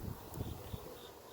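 A low, steady buzzing of honeybees covering hive frames during a backyard hive inspection hums throughout, with a few slightly louder swells, close by and with no voices.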